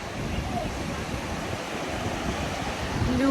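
Large waves breaking on a beach at Bibione under a red no-swimming flag, a steady, fairly loud wash of surf and wind filling the whole stretch, rising slightly at the end.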